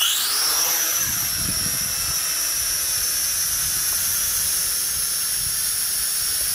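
An XK X250 FPV drone spins up and lifts off, its motors giving a loud, high, steady whine with rising tonal pitch over a constant airy hiss, close by.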